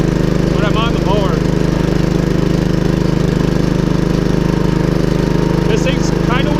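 A riding lawn mower with a hand throttle control runs loud and steady in the foreground, its engine drone constant throughout, while a few faint bird chirps come through above it.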